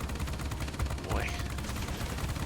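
Rapid continuous aircraft turret gunfire in the game World of Warplanes, a dense rattling burst of shots under steady engine drone, close and loud throughout.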